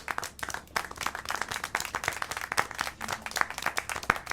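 Dense, continuous clapping from a group in a video game, steady and lively for the whole stretch with no voices over it.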